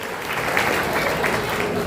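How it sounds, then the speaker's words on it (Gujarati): A seated audience at a community award ceremony gives a dense, sustained round of applause, steady and fairly close throughout. "એમના માટે એક જોરદાર તાળીઓ થઈ જાય"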